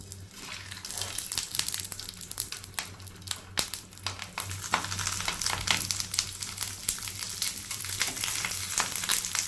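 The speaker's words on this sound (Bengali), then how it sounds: "কলার পাতাতে আমি মাছটাকে ছেড়ে দিচ্ছি অল্প একটু তেল দিলাম" Hilsa fish wrapped in banana leaf fries in a little oil on a griddle, giving a steady close crackling sizzle with frequent sharp pops and spits throughout, and no talking.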